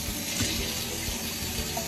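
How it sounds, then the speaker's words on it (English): Hands being washed under a running kitchen tap, a steady close splashing stream of water with no talking. "Okay, so I'm going to go wash my hands now."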